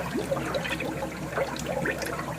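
Air bubbles up through waste oil in a biodiesel tank, mixing it, a continuous gurgling and burbling of liquid heard up close with no talk.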